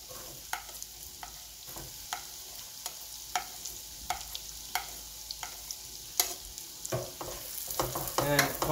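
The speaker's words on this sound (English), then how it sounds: "as soon as it starts giving the aroma, what we're going to do is we're going to go ahead and add onions" Onions with ginger sautéing over a high flame for a paneer dhaniya dish, a steady close sizzle broken by regular scraping stirs of a spoon in the pan, growing busier toward the end.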